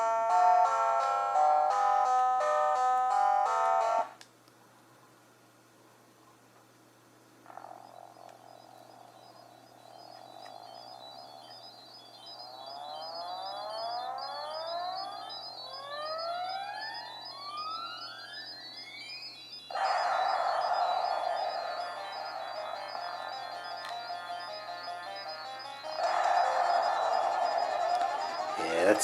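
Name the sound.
Elemental Master video game audio on PXP 3 handheld emulator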